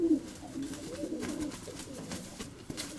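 A female pigeon coos softly nearby, a low continuous throaty warble lasting a few seconds, with faint rustling and small clicks around it.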